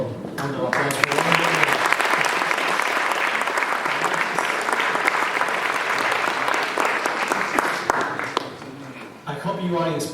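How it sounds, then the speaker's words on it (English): An audience at a panel on immigration and DACA breaks into sustained, full applause, briefly overlapping a speaking voice at the start, then thinning out as talk resumes at the end. "Please, one more round of applause for one more."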